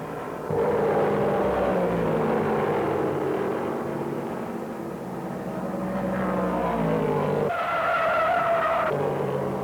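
Continuous loud roar of NASCAR race car engines at the 1968 Cardinal 500, with tire squeals and skidding as cars spin, shifting in pitch as they slide, with no one talking.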